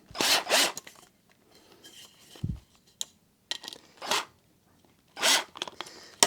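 A screw is started into a model railroad backdrop: several short, harsh rasping bursts separated by brief pauses, close and fairly crisp, with faint handling noises between them and no talking.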